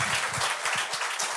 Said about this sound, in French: Il faut l'applaudir pour ça.